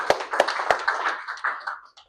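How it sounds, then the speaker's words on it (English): An audience applauds Julie at a property network event, with a short spell of scattered clapping from a small crowd that starts with a few sharp claps and then thins out quickly. "So a round of applause for Julie would be great."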